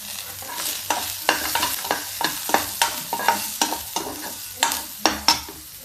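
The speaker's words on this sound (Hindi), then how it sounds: "अब इसको हम फ्राई करेंगे। अब डाल देते हैं अदरक।" Garlic, onion and ginger frying in a pan for a spinach dish, with a spoon scraping in regular strokes about twice a second over a steady sizzle, close and clear.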